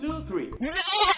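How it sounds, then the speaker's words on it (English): Goat bleating in a farm-animal sound quiz, a short wavering bleat under a speaker's counting voice, close and fairly loud, with speech overlapping throughout. "So this animal is a goat."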